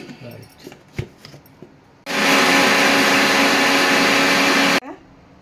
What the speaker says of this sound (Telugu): మిక్సీ పౌడర్ చేద్దాం.